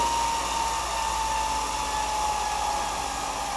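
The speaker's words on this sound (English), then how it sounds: "I'm going to push a little bit more parallel tip into it with the grinder" A grinder shapes the tip of a blacksmith's pritchel with a steady, loud whirring drone and a sustained high whine, unbroken for the whole stretch with no talking.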